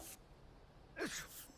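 A single quiet sneeze from a character in the video game Paralives, a brief sharp burst with a breathy intake just before it.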